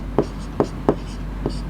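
A pen scratches on paper in a few brief, distinct strokes, three stronger ones then two lighter, close and quiet over a faint steady hum.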